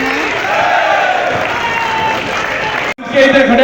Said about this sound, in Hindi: तालियां बजाकर उनका स्वागत करें